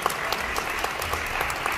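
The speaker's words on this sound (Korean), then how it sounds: "여러분 큰 박수 부탁드리겠습니다." Guests at a Korean wedding ceremony clap together in a steady, dense round of applause that fills the hall, many hands beating evenly and fairly loud, with no speech over it.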